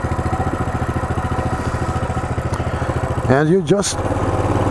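A Coleman CT200U mini bike engine runs close by in a steady, fast chugging beat throughout. Someone speaks briefly over it.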